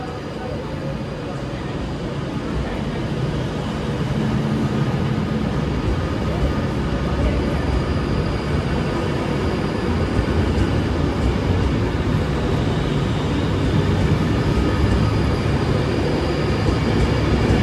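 A passenger train accelerates out of a station on the Stoke-on-Trent to Birmingham New Street line, its steady loud engine and rolling rumble filling the whole stretch without a break.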